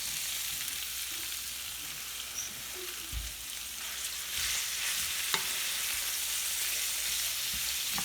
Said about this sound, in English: I'm going to cook this down until the onions are pretty much translucent